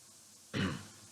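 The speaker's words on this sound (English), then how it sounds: "just have to clear my throat now and then." One brief, close throat clear from a man, a short rough burst lasting under half a second against a quiet room.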